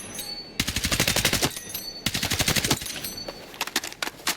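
Rapid automatic gunfire from a pellet-firing gun in Battlefield 6, with two long sustained bursts of fast, evenly spaced shots followed by a few scattered single shots, close and loud.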